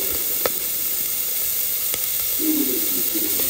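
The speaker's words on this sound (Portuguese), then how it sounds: "Está aqui fritando um pouco a cebola, né? O próprio óleo." Onion fries in rendered bacon and sausage fat with a steady, soft sizzle and hiss, close by, with one or two faint clicks and a brighter burst of frying toward the end.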